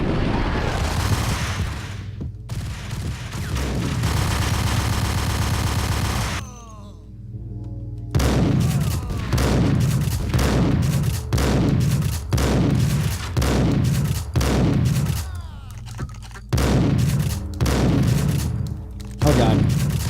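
Tap-fired gunshots in the Max Payne video game ring out as sharp bursts. A steadier stretch is followed by a dense run of repeated shots with echoing tails, loud and close.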